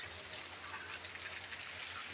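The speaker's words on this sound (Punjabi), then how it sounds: "ਮੀਂਹ ਪੈਣਾ ਸ਼ੁਰੂ ਹੋ ਗਿਆ ਹੈ" Steady morning rain falls in rural Punjab. The hiss is even and broadband, with one brief drip or tap standing out briefly, and no voices are heard.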